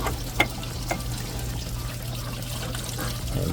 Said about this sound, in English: you can see it's just pouring coolant down right there